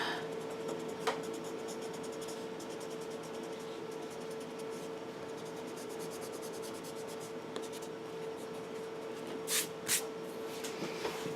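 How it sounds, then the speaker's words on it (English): A pencil line being erased on paper during a pencil portrait drawing, a soft continuous rubbing scrape with a faint steady hum beneath and a couple of brief louder scuffs near the end. "All right, so I'm going to erase some of these lines in here."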